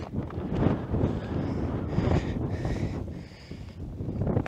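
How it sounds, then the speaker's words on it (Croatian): Strong wind roars on the 1262 m summit of Ljubljan on Mosor, buffeting the microphone with continuous rumbling gusts that rise and fall without a break. "Evo, dosta je jak vjetar."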